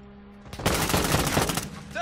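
A sustained burst of rapid automatic gunfire in a shooter game, loud and close, starting abruptly after a brief quiet lead-in and rattling on for over a second before trailing off.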